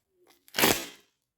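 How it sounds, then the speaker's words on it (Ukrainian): A paper packet tears open along its perforation in one short, close rip lasting under a second, preceded by a faint rustle. "Аж порвався сам пакетик."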